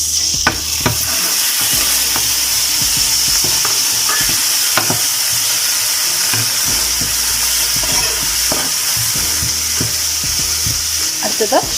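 Prawns stir-fried with chilli paste and soy sauce hiss loudly and steadily in a hot pan, with frequent clicks and scrapes of a spatula stirring through them; close and dense, no voices.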